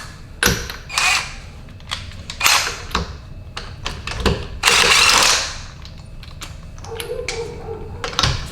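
A torque gun removing lug nuts from a Corvette wheel, heard as a series of short, sharp mechanical bursts and rattles at irregular intervals, close and fairly loud, with one longer sustained burst near the middle.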